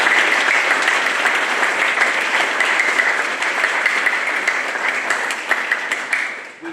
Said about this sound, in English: Please give our instructors a round of applause.